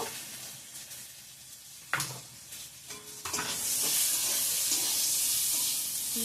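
Hot tempering with panch phoron hits cooked dal in the pot. A few quiet clinks come first, then a sudden loud hiss that carries on as a strong, steady sizzle.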